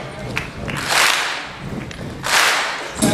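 An interview audience stamps their feet on the floor in two broad bursts of rumbling thuds, with a few scattered sharp knocks between and after them.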